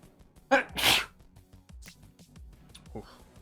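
A person lets out one sharp, loud sneeze with a quick inhale before it, close to the microphone during a gaming session, followed by quieter background sounds.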